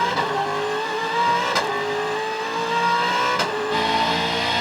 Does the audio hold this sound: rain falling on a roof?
no